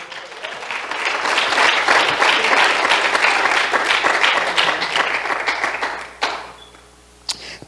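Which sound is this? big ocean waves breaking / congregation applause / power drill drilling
congregation applause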